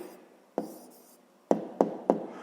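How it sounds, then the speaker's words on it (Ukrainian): A pen writes an answer to a fifth-grade maths exercise by hand, giving several sharp taps and scratchy strokes on paper, close and quiet, with no talking. "записуємо тоді відповідь"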